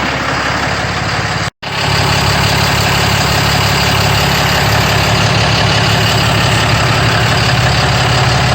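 Loud, close idle of a RAM 5500's 6.7 Cummins diesel after a fuel filter change, a constant low clattering rumble broken by one brief dropout before resuming unchanged.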